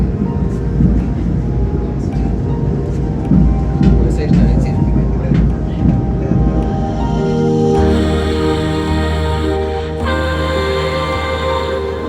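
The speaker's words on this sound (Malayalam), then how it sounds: "അങ്ങനെ മല കയറി ട്രെയിൻ ഓട്ടം തുടങ്ങി." A mountain rack train climbing the steep slope of Mount Schafberg gives a steady, loud low rumble and mechanical drone throughout, with a shift to a harsher tonal hum near the end and voices talking over it.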